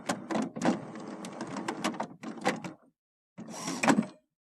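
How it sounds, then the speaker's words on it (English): An HP Photosmart Premium printer starting up, a close series of whirring and clunking mechanism bursts with short gaps, then a pause and one final whir. "Wait for the printer to turn on and stop making noise."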